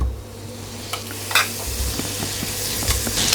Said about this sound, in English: add your butter into the pot and just let that melt